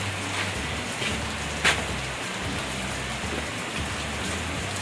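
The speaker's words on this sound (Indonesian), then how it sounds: "Ini hujan terus nih" Heavy rain pours steadily over a livestock pen in a dense, even hiss with a low hum underneath and one brief louder splash partway through.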